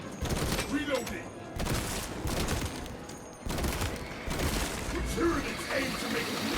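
Bolt pistol reloading in Space Marine 2, with clacking, ratcheting mechanical clicks between loud bursts of rapid gunfire that break off into brief gaps, all close and dense.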